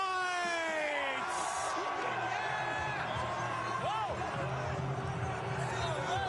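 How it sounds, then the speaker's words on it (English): A dense parade crowd cheers, whoops and yells continuously, a loud steady roar of many voices with scattered shouts throughout, celebrating the Philadelphia Eagles Super Bowl win. "The crowd goes crazy."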